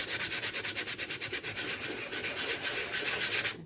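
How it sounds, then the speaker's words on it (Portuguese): Hand sanding of an MDF box, a steady rhythmic scratchy rasp with about five quick back-and-forth strokes per second, close and loud, stopping abruptly at the end with no talking. "Mas lixar faz barulho."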